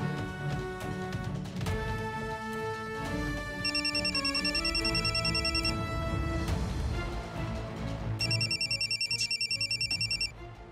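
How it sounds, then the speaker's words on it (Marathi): A telephone rings indoors in a household scene, its repeated electronic trill sounding in two long bursts over background music, fairly loud and steady, with no voices over it. "फोनला बी आत्ताच वाजायचं होतं."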